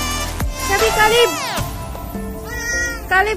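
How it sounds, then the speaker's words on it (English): A chubby pet cat gives several close, drawn-out meows with rising and falling pitch while a person talks to it. "Oh, it's my chubby cat."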